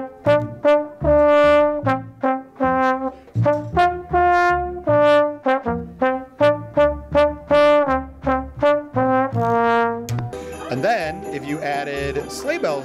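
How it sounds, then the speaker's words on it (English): Mary Had a Little Lamb played as a plain melody with no sleigh bells, clear sustained notes at a steady even rhythm, close and loud, ending in a brief burst of different busier music. "if we took Mary Had a Little Lamb and just played it as normal,"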